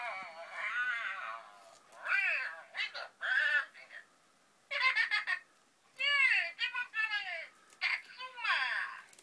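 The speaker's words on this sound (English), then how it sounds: "If you squeeze his tummy, it makes a sound." Katsuma Moshi Monster soft toy gives off high, squeaky electronic voice phrases when its tummy is squeezed, several short bursts with pauses, fairly faint and alone.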